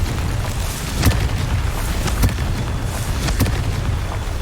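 A Confringo blasting spell explodes in Hogwarts Legacy, a loud rumbling blast with several sharp impact cracks over a continuous roar and no talk.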